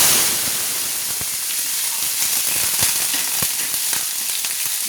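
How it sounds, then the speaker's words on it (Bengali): Cut potatoes sizzle and crackle in hot oil, a dense steady frying hiss with scattered sharp pops throughout, close and alone with no voices. "এই যে আলু যে কেটে আমি ধুয়ে পরিষ্কার করে রেখেছিলাম সেগুলো ভেজে"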